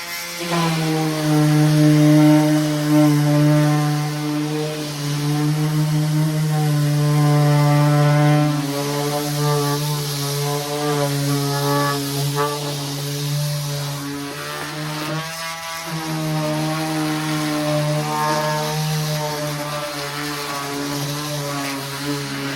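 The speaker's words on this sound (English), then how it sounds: "We got to get down here and do the most fun part, sanding this deck." A power sander drones over a wooden deck, a steady motor whine with a strong low hum running continuously, slightly wavering in pitch, with no talking.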